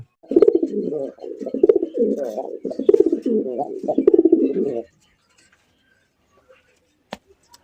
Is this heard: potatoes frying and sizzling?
no